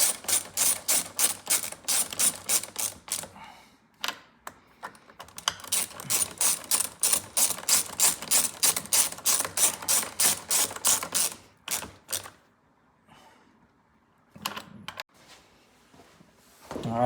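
A ratchet with a 5/16 socket tightens bolts on a Stihl 026 chainsaw, giving close, loud bursts of rapid clicking in several runs separated by short pauses.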